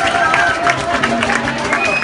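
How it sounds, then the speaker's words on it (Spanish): An audience at a live show applauds, dense steady clapping with crowd noise over a couple of seconds. "Quiero un aplauso para ella también"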